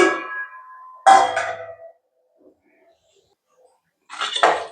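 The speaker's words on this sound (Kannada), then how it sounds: "ಇವಾಗ ಪ್ಲೇಟ್ ಕವರ್ ಮಾಡ್ಬಿಡೋಣ." A plate set down as a lid over a cooking pan, a few sharp clattering metal and ceramic clinks near the start, then quiet, then another brief clatter at the end, close and distinct.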